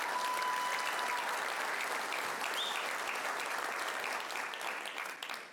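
Sustained audience applause fills a conference hall, dense and steady throughout before tapering slightly at the end, with a faint whistle partway through.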